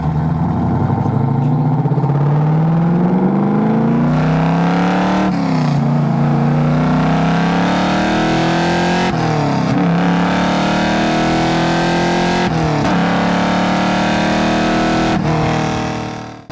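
A 1973 Chevrolet Camaro Z28's big engine roars and climbs in pitch as the car accelerates hard, with several brief drops between gear shifts, loud and close throughout.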